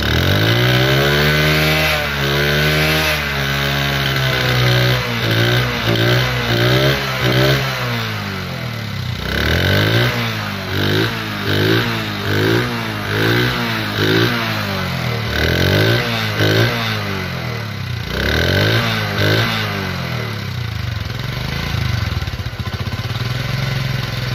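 A Honda CD 80cc motorcycle engine revs hard and repeatedly, rising and falling in pitch with each throttle blip over a steady loud idle, close by and continuous.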